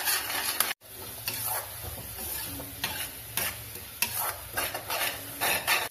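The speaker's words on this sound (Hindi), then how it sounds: "अब हम इसे अच्छी तरह से मिक्स करके कुक कर लेंगे" Spice masala fries in a pan and is mixed with repeated scraping strokes, giving a bursty rhythm of stirring over a constant sizzle, close and fairly loud with a brief dropout near the start.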